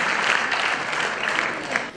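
Loud, sustained applause from a packed audience at a Hindi poetry recital, greeting a guest from Rajkot; dense, continuous clapping close and full throughout.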